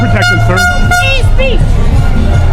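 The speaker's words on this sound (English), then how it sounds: "That's not free speech to have that air horn blasting and hurting everyone's ears here." Horn-like blasts sound through a noisy protest crowd, with strong harmonic tones pulsing loudly among shouting voices and constant low rumble.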